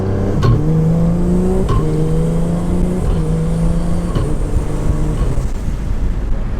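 A 500-wheel-horsepower Mitsubishi Lancer Evolution V pulls hard through several quick, seamless upshifts. Each rising engine note is cut short by a brief shift before it climbs again, loud and close throughout with no voices.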